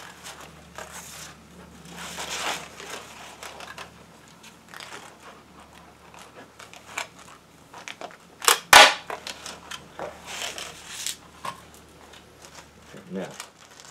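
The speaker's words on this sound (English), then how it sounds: "we also want to make sure that's stapled to the plastic top" A stapler fires once into netting held against a plastic top, a single sharp close snap standing out from quiet handling noises and faint shuffling.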